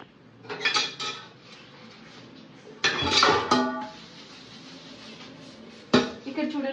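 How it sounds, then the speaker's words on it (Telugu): Cooking pots and steel utensils being scrubbed and washed in a kitchen, with three loud bursts of clanging metal separated by quieter scraping and handling. A voice speaks between the clatter. "గిన్నెలు కూడా చూడండి ఎలా తోమాలంటే"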